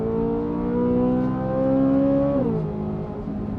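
A Corvette Z06 with a flat-plane crank V8 runs on a track, its engine note held high and steady, then dropping sharply as it lifts off, loud and close with no talk.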